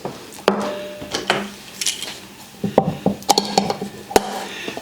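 Metal cookware clanking in a home kitchen as a pan is pulled out, with a burst of sharp knocks, rattles and clinks close by, no talking.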